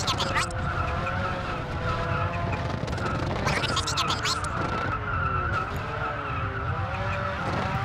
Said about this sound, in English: you can see the rear tyres are skidding a lot